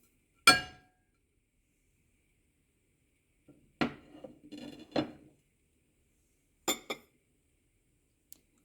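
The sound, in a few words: mixing spices and vinegar in a bowl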